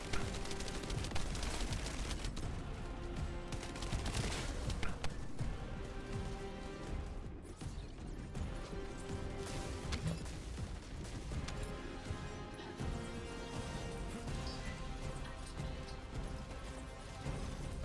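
Assault turret in The First Descendant fires in a dense, continuous barrage of rapid gunshots and impacts, loud and sustained throughout with crashing bursts layered over a busy game mix.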